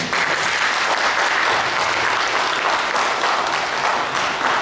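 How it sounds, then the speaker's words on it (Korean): Seminar audience welcoming an artist to the stage for a presentation at a summer academy, sustained, full applause from a seated crowd, steady and unbroken throughout. "박수로 환영해 주시기 바랍니다"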